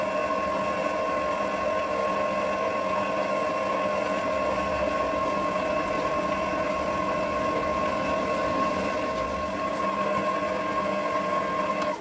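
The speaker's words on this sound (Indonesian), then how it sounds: "Kemudian kita nyalakan mixernya dan biarkan semua adonannya tercampur rata" An electric stand mixer with a paddle beater works nastar cookie dough, a steady mid-pitched motor whir with a constant tonal hum that runs evenly throughout with no talk.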